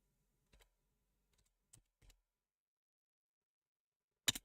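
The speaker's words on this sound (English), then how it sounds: "Typing slowly but methodically." Slow, methodical typing on a computer keyboard: a few sparse, faint key clicks spaced apart, then one louder double keystroke near the end, in an otherwise quiet room.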